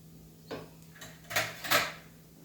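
A spoon stirring kanda pohe in a pan, a few soft metallic scrapes and clinks, the last two louder, close and with no voices.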